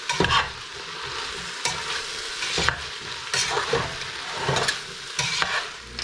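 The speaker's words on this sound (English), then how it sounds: "we're going to cook this for a little while, giving it the occasional stir" Root vegetables cooking over medium heat in a pot, a steady moderate sizzle close by, broken now and then by sharp scraping strokes of a spoon as they are stirred.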